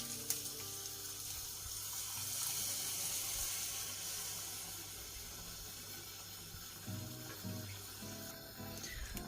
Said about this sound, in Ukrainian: Та додаємо дві склянки гарячої води або окропу.